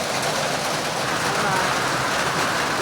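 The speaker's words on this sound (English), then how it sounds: "a hailstorm has come in" Hail pelting down on an outdoor farm lot with goats and chickens sheltering, a dense, steady hiss of countless hailstones striking surfaces, loud and continuous without letup.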